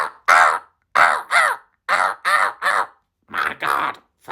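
A crow caws again and again, loud and close, with harsh rasping calls coming singly and in quick pairs and separated by short silences.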